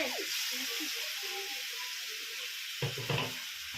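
A masala mixture is stirred in a pan before chicken goes in, giving a steady low sizzle with soft scraping strokes and a couple of louder knocks of the spoon near the end.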